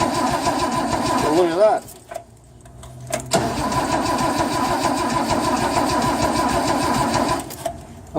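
A car petrol engine cranks over with a battery jump starter, briefly stalls into near quiet, then catches and settles into a steady idle; someone speaks briefly near the start.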